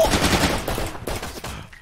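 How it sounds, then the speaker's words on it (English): Rapid bursts of automatic gunfire from a video game, several sharp repeated shots in quick succession, loud and close, with no talk over them. "Cole, you're missing every shot"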